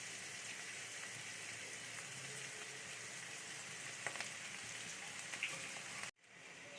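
Vegetables for homemade fried rice sizzle and crackle steadily in a hot pan, a dense, close, continuous frying hiss that cuts off abruptly near the end.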